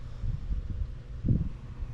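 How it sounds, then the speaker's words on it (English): Wind gusting outdoors on a gray, overcast wintry day at a rural log home, a steady low rumble across the microphone with a stronger buffet near the middle, no voices. "but the wind is really blowing here today."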